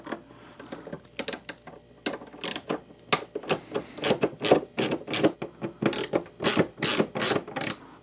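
Tail light screws come out of a Harley Road Glide with a ratcheting tool, making a fast run of sharp, close clicks in uneven bursts that continue throughout.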